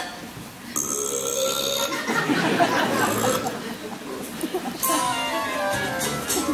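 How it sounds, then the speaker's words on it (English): A stage actor burps during a Willy Wonka Jr. musical number about burping, with several loud belch-like bursts among chatter, laughter and background voices. "The answer's burping."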